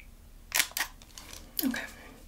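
Camera shutter firing twice in quick succession, crisp mechanical clicks close to the mic in a quiet room during a photo session, with faint breathy mouth sounds between them.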